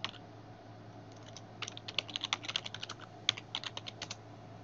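Rapid typing on a computer keyboard, a quick run of light key clicks in short bursts, fairly close but quiet over a faint background hum.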